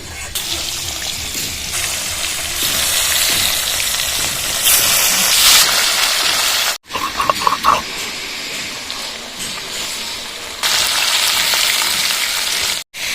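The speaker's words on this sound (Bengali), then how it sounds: "বাকি মাছগুলো এইভাবে ভেজে নেবো" Chela fish fry in hot oil in a pan, a loud continuous sizzle that cuts out briefly and then returns, with a few clatters in the gap.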